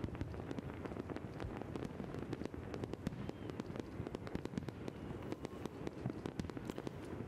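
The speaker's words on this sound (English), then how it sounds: "A sea of color filled the sky as a fireworks display was held over the Acropolis" Distant New Year fireworks over the Acropolis crackle and pop in rapid, irregular bursts over a steady low rumble, faint and continuous with no voices.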